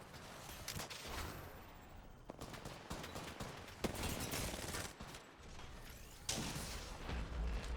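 Rapid bursts of R9 gunshots in a competitive match of the video game Apex Legends, dense and continuous amid other game noise, fairly faint overall, without any speech.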